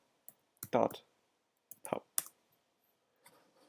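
Computer keyboard being typed on in short bursts of clicking keystrokes, close and fairly quiet, separated by pauses of near silence.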